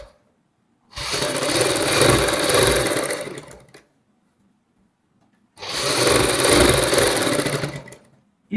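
A sewing machine running a topstitch on a girls' top, two loud close bursts of fast whirring stitching, each about three seconds long, with silence before, between and after.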